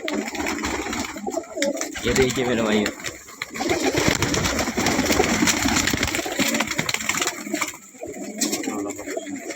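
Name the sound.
Kalsira pigeons cooing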